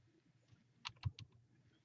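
A few soft keystrokes tap on a computer keyboard, a short cluster of quiet clicks against a faint background hum with no talking.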